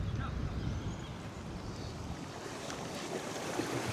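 Moderate ocean waves washing over a shallow coral reef, a steady broad rush of surf and water with some wind noise, no voices.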